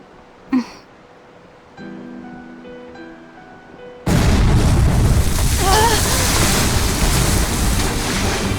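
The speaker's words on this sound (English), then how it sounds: "Cannon fire astern!" Cannon fire from a pirate ship in the video game Tales of Berseria: a sudden loud boom that launches into a sustained roar of ocean waves and wind, preceded by a brief thud and a quieter musical stretch.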